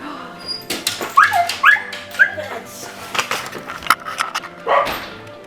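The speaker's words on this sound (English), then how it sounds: "she immediately runs to the back door barking if you say it." A pet dog whimpers, yips and barks excitedly in short close bursts, with a few high whines between the barks.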